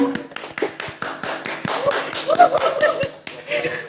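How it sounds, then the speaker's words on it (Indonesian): Scattered hand claps from a school audience at an SMA, a sparse, uneven patter of taps rather than full applause, rising a little mid-way and carrying on to the end. "Oke, tepuk tangannya"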